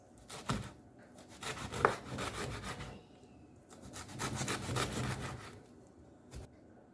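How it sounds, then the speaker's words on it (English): A kitchen knife slices through pumpkin leaves on a board in a series of scraping, rasping strokes, coming in bursts with short pauses, close and fairly soft. "Now I slice the pumpkin leaves or go into tiny slices."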